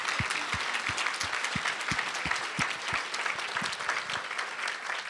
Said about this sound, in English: And in memory of Ellen, how about a nice round of applause again for her daughter?